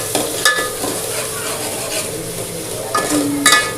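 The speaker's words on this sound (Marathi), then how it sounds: "याला छानपैकी फ्राय करायचं." Mutton masala fries and sizzles in a pan with a steady hiss, while a spoon stirs and scrapes against the metal in a few clinks near the start and end.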